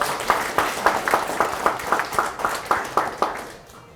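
Rhythmic unison clapping from a crowd at a political party members' meeting, about a dozen even claps at a steady beat, fading out at the end with no talk over it.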